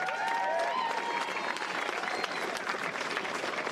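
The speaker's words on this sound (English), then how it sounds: "so let's give them a round of applause there too" A crowd at the Westmeath GAA senior football final day claps for the sponsors: a dense, steady round of applause heard alone, held at an even level throughout.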